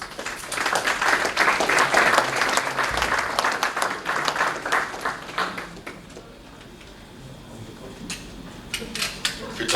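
Audience at an aviation careers conference applauds a speaker, a full round of clapping that swells for several seconds, then thins to scattered claps and a quieter room before a few more claps return.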